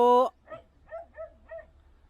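A white dog at a rural house barks at visitors: one loud, close bark followed by several fainter yips and whimpering sounds.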